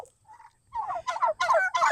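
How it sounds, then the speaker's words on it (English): A flock of healthy farm turkeys gobbles in several rapid, overlapping bursts, close by and fairly loud, after a brief softer call at the start, with no talking. "our turkeys, as you can see, are doing very well"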